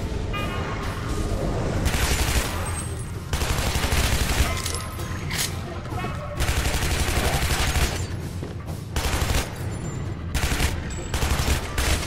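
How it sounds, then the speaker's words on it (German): Rapid bursts of gunfire and booming explosions from the video game Shadow Warrior crackle in repeated waves, dense and loud, with brief lulls between volleys. "Allein die 80 Millionen Kugeln, die kommen."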